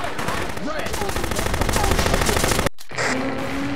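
Sustained machine gun suppressive fire in the 2005 video game Close Combat: First to Fight, loud rapid bursts rattling continuously for over two seconds, then cutting out briefly before quieter game sounds resume with a voice in the background.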